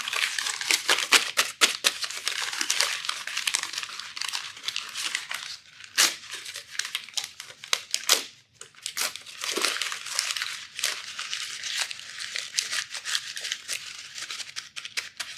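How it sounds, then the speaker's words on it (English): A sheet of paper crumpled and scrunched hard by hand for several seconds: dense, continuous crackling and crinkling, loud and close, with brief pauses and bursts of tearing-like rustle, and no voices. "for 30 seconds, I want to make as much noise as I possibly can with the paper."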